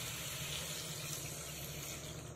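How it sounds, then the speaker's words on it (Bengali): Water is poured into a Bengali rui fish curry with drumstick and potato to make the gravy, a continuous, close rushing stream that runs steadily for the whole moment. "এই সময় দিয়ে দেব ঝোলের জন্য জল।"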